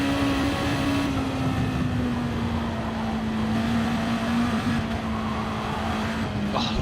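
A GT race car's engine in a sim racing game, GT4 and GT2 class event, holds a steady, fairly high drone throughout, with no talk over it.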